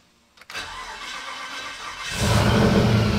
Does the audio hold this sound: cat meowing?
no